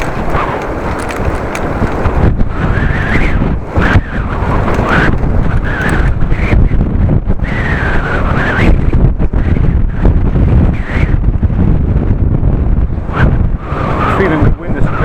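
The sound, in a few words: very heavy wind while riding a bike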